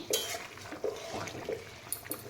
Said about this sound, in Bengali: ঢাকনাটা খুলে দিয়ে একটু নাড়িয়ে নিই